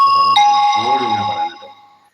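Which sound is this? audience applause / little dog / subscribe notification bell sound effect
subscribe notification bell sound effect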